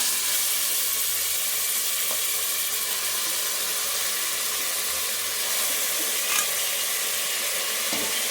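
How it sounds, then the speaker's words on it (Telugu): Mutton frying in oil inside a pressure cooker gives a loud, steady, close sizzling hiss that runs throughout, with a few faint clinks and no talking. "ఆయిల్ వేసుకొని తర్వాత మటన్ అయితే వేసేసుకోవాలా"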